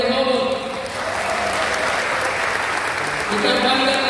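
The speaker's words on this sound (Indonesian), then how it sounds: "Kita tepuk tangan untuk vokal grup Rehoboth." Congregation at an ecumenical church service applauding a vocal group, continuous loud clapping from a crowd, with sustained musical tones ringing underneath at the start and end.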